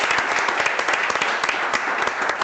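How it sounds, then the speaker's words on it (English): A conference audience at an immersion-cooling technology event applauds in a brisk, close, continuous patter of many hands clapping. "a big applause."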